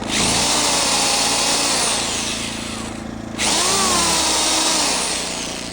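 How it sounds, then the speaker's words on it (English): An electric drill powered by a Harbor Freight Predator 2000 watt inverter generator running in economy mode whirs loudly and steadily, stops briefly, then spins up again at close range. "a drill doesn't use a lot of power"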